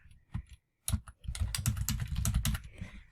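Rapid computer keyboard typing, a dense run of clicky keystrokes after a few scattered taps and a short pause, close and fairly quiet.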